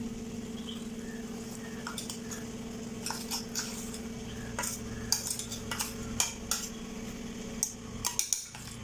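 Thick ground spice paste going into squid curry in a pan and being stirred, with scattered metal-on-pan scrapes and clinks over a steady low kitchen hum and faint background sizzle.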